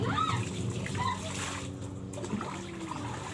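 Water splashes and trickles steadily as something is rinsed, close by, with a faint voice now and then in the background.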